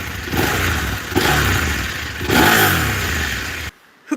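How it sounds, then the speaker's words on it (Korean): A Husqvarna Norden 901 motorcycle on its stock exhaust revs up close, with three loud throttle blips that rise and fall before cutting off abruptly. "배기음 들려드리겠습니다."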